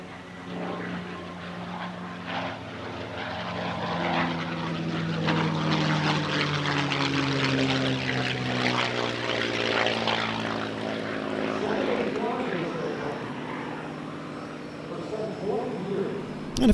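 P-51 Mustang propeller aircraft passing at an airshow, its piston engine drone swelling and fading with shifting pitch, with a voice talking over it throughout.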